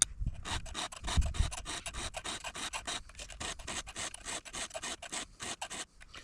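A round file rasps across the teeth of a chainsaw chain in quick, even back-and-forth strokes, a close, gritty scraping repeated about a dozen times with no talking.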